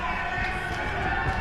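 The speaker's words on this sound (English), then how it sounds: "A frenzied crowd." Frenzied crowd at a professional wrestling match between Mahabali Shera and Jessie Godderz, a dense steady roar of cheering filling the arena, loud and continuous for a brief moment.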